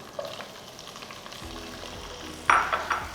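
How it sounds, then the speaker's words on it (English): Diced onion and tomato saute in a pan with cinnamon stick and bay leaf for an Andhra fish curry, giving a soft steady sizzle with occasional spoon stirs and a sharper scrape near the end. "I will saute them till the onion become translucent and the tomato become mushy"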